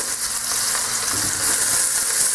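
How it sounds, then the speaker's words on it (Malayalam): Onion frying in a pan for a pork dry fry, giving a steady, close, broad sizzle that holds evenly throughout with no voices. "സവോള നന്നായിട്ട് ഫ്രൈ ആവാനായിട്ട് നമുക്ക് വെയിറ്റ് ചെയ്യാം"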